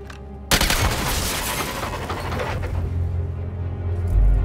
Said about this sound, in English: We shoot that junction box up there and we might be able to get out.